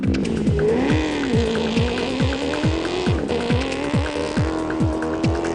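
An FIA-spec Nissan Navara race truck with a Nismo 5.6-litre engine at the 2020 Baberspan 250 off-road race, its engine loud and close, revving in a rapid, repeating series of rising and falling sweeps.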